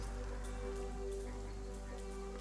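Steady rain falls on a surface in the city-building game Power To The People, a soft continuous patter that runs through the whole stretch with a faint tonal layer underneath and no voices.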